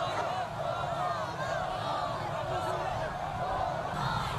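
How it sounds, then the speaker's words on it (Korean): Dense crowds lining city streets roar and cheer enthusiastically, waving flags and bouquets, a continuous close wash of massed voices and shouting with no pauses. "군중들은 조국 통일 평화 번영이라고 외치고 공화국기와 통일기 꽃다발을 흔들며 열광적인 환호를 올렸습니다."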